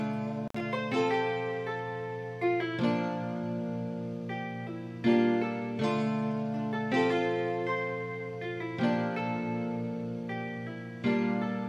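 Two layered guitar presets double the same melody in an FL Studio trap beat, a steady plucked line with repeated note attacks roughly every two seconds, sustained and full, with no voices.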